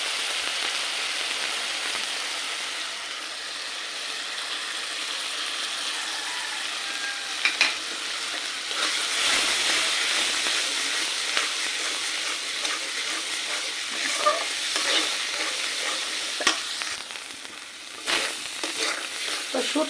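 Dried fish paste (shutki bata) fries in a pan of cooked-down spices, a steady close sizzle broken by occasional scraping clicks of stirring, with no talking.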